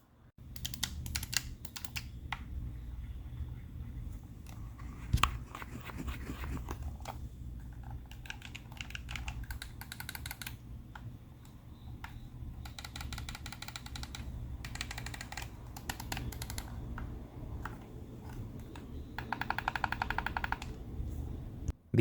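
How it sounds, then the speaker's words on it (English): Rapid plastic clicks from the buttons of a Binbok Ultra Pro controller come in quick irregular bursts and clusters, close and crisp over a quiet background, with brief pauses between runs of presses. "on the Ultra Pro controller, the button stays still until you reach the maximum pressure to trigger the click"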